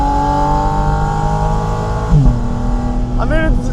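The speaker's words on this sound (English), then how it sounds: "that is a race car engine. Literally comes out of the Cup car" A Porsche Spyder RS running its race car engine from the Cup car, a loud sustained tone with rising and falling pitch sweeps as it revs, heard close and continuous.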